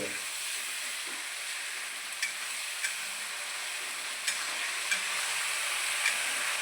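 Steady sizzling hiss of masala frying in a pan for chicken kosha, with a few light clicks and scrapes of stirring over the constant crackle.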